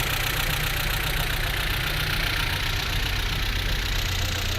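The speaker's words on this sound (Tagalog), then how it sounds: "Ayan, tunog yan. Naka-aftermarket exhaust." A 1998 Audi A4 engine with an aftermarket exhaust, running at a steady idle on its first start after months of sitting, a constant loud close drone.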